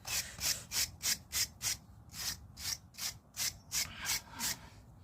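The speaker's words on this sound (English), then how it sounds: "I'm going to scrub any powdery, chalky, flaky hoof wear tissue off, hoof sole tissue off" A horse's hoof sole is scrubbed clean of powdery, flaky tissue with about a dozen brisk, evenly spaced brushing strokes, each a short scratchy rasp, close up and fairly quiet.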